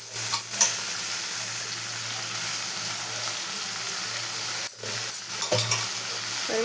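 Drumstick leaves tossed into sautéed onions in a pan for an egg poriyal, giving steady close frying sizzle with a few scraping stirs and light clinks of the utensil against the pan.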